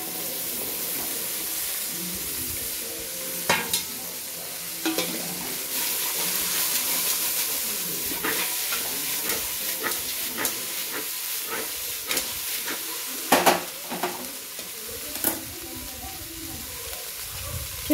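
Jaggery is stirred into a frying mixture in a pan. A steady, moderate sizzling hiss runs throughout, with occasional sharper clinks and scrapes of a spoon against the pan.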